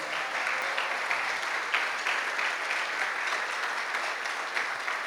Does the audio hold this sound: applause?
yes